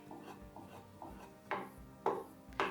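A flea-market edge tool's bevel side being stropped, heard as a quiet rubbing rasp with a few sharper scraping strokes near the end, no talk.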